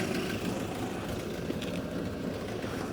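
A classic MG Midget car engine idles in a steady, muffled drone with a slightly uneven, lumpy pulse, continuous and moderately quiet, with no talking.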